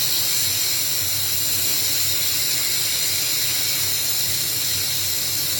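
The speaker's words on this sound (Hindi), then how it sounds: "सीटी उठते ही हम प्रेशर को रिलीज़ करेंगे और एहतियात बरतेंगे इसका प्रेशर ख़त्म हो जाए।" Steam blasts from a pressure cooker after its whistle, a loud, continuous hiss that holds steady without a break, heard alone.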